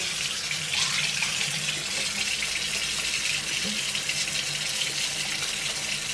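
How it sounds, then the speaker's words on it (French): Hot tap water runs steadily into a kitchen sink to fill the water tank of an Ultenic T10 robot vacuum-mop, a constant close hiss and splash throughout. "je vais pouvoir remplir. Donc, moi, je mets de l'eau chaude."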